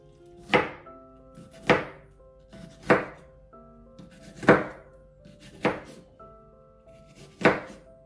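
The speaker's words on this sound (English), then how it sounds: "Please cut the green peppers in 1 centimeter squares." Knife chopping green peppers into 1 cm squares on a cutting board for a Japanese bento dish: six sharp, evenly spaced thunks, close and clear, each followed by a short ring in a quiet kitchen.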